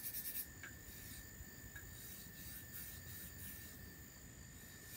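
Steady, faint rasping of a straight razor honed on a blue DMT diamond plate, a continuous scratchy stroke with slight rhythmic variation, close and alone.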